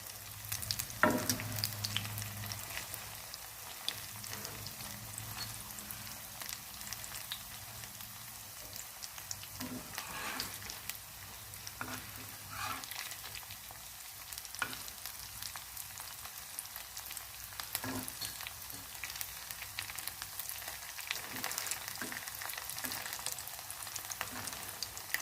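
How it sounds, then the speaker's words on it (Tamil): Native chicken egg 65 deep frying in hot oil, a steady dense sizzle and bubbling that runs throughout, with occasional soft clicks and stirring knocks from turning the pieces. "நம்மளோட 65 நல்லா பொரிஞ்சு வந்துருச்சு."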